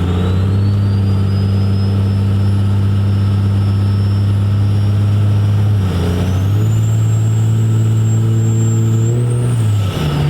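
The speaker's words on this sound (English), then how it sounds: "it spools so fast. Like for a single turbo setup, it's really impressive." A single-turbo diesel truck engine holds a loud, steady drone, then rises in pitch partway through as the turbo spools up with a climbing whine, close and continuous with no talking.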